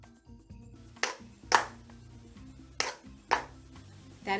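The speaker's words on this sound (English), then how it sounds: "That is the sound of a shuffle with an inferior tap shoe." A shuffle in an inferior tap shoe makes a few thin, light clicks in pairs, faint and dull, with quiet low background hum between the strikes.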